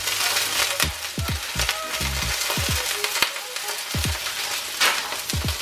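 Broccoli tossed into a pan already frying garlic and spring onions for vegetarian chow mein, giving a loud, continuous close sizzle with scattered knocks and stirring clatter.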